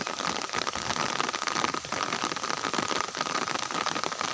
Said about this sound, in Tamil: மழை வந்துருச்சு, வேகமாகவே வந்துருச்சு.